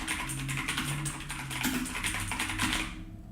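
Fast, steady typing on a computer keyboard, dense overlapping key clicks running continuously over a low background hum, loud and close, with no talking.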